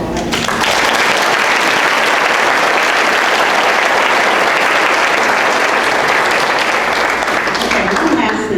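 A meeting audience gives a big round of applause to department heads, loud, dense clapping that swells in and holds steady before tapering at the end.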